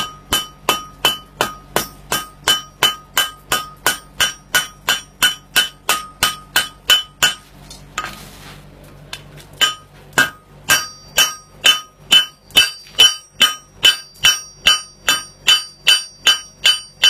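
A hammer rings steadily on a fullered concave steel horseshoe held over the thick part of an anvil, dozens of evenly spaced, close metallic blows with a brief pause partway through.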